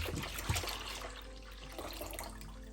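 Full cream milk poured into a pan, a continuous liquid splash and trickle with a brief louder splash near the start, close by and alone.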